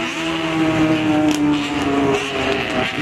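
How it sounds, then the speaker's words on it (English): Modified Bosozoku gang cars pulling up on a Tokyo street, a loud continuous engine drone with shifting tones and a rising note near the middle, heard up close with no talk. "all these Bosozoku guys pulling up"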